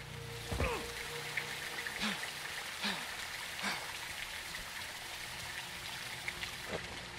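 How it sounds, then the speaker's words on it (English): Steady heavy rain patters in Call of Duty: Modern Warfare II with a wash of trickling water throughout, broken by a few soft thumps and low creaks, fairly quiet and without voices. "It's raining fucking hard."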